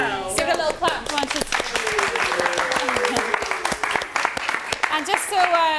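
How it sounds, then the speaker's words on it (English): Clapping and applause from an audience at a detox retreat as a belly dancer appears, brisk crisp claps with voices and cheers over them, fairly close and lively throughout. "Give it a little clap"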